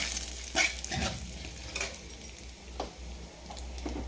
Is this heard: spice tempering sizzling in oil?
yes